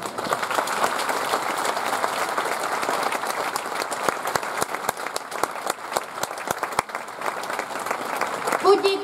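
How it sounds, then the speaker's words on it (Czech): Audience applause for the sponsors at a Mistrinanka anniversary event in Slovácko, a sustained wash of many hands clapping that fills the room, with some rhythmic unison claps emerging partway through and faint voices underneath. "Takže sponzorům díky a potlesk."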